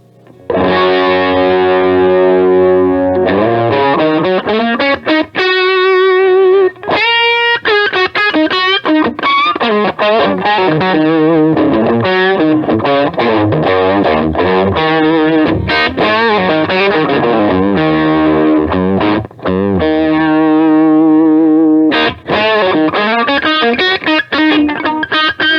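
Electric guitar played through an amp with a JHS PG14 pedal: loud, continuous sustained notes and chords with bends, a thick, saturated edge rather than a clean sound, ringing steadily with brief gaps.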